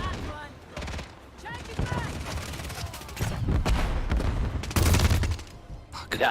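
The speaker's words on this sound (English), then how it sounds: "Yeah, I love that you're throwing grenades on this tiny map." Grenades and rapid gunfire burst repeatedly in a chaotic round of a first-person shooter on a tiny map, with loud booms and crackling shots stacking up, and players talking over the mayhem.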